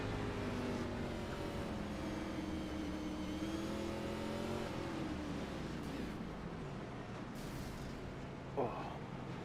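Race car engines at Martinsville in a racing video game drone and rev steadily and loudly, with several overlapping engine tones rising and falling as the cars accelerate and lift, all continuous without talk.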